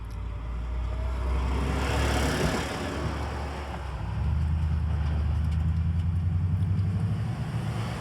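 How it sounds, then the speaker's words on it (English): A big truck passes on a mountain road near the Eastern Continental Divide, its rumble swelling to a broad whoosh as it goes by, heard from inside a moving vehicle whose own low engine drone continues steadily. "Got a big truck coming."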